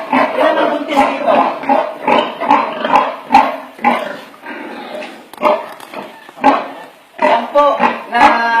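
A pregnant sow grunts repeatedly in a pen, loud and close, in short rhythmic bursts with brief pauses between them.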